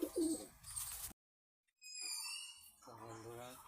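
A pair of pigeons coo softly at close range, with a short silent gap midway. A person speaks nearby in between the calls.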